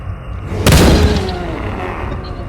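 A gunshot or explosion-like boom in the Los Angeles Crimes video game, a single loud sharp burst followed by a decaying rumble and faint background noise.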